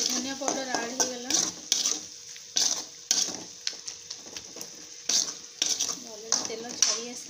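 A spoon stirs and scrapes cauliflower curry masala frying in oil with salt, chili, turmeric and coriander powder in a pan, giving repeated close clattering strokes with a faint sizzle, and a voice is heard at times.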